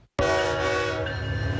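A freight train horn in Wichita blasts suddenly after a brief silence, one loud, sustained, harmonic tone holding steady to the end, close and dominant with no voices.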